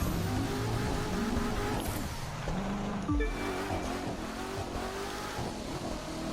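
A race car engine in The Crew 2 on the Pikes Peak hill climb street race, revving hard and rising through gears with a sharp shift midway, loud and continuous with no talk.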